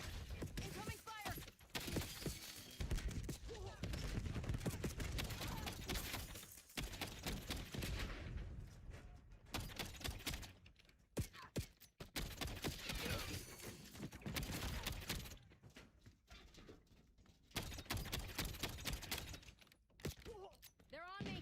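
Rapid gunfire in a Call of Duty Season 3 Reloaded match, dense bursts of shots and clatter running through most of the stretch, with voices talking over the action.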